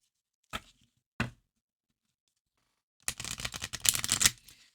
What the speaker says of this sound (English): It does shuffle well when you split it.